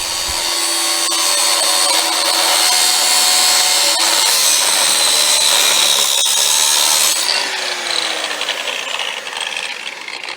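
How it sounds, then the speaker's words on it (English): Angle grinder cutting through a projecting metal bar above the rails of a DIY PVC greenhouse frame, a loud continuous whine that holds steady for most of the clip before easing into a rougher, uneven grind. "Time now to cut off the projecting bar above the rails with an angle grinder."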